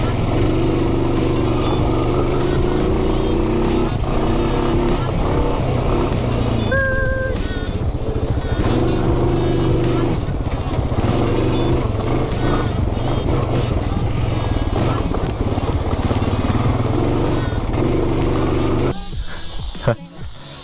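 A used four-wheeler ATV engine runs steadily and loudly up close for about nineteen seconds, then cuts off near the end.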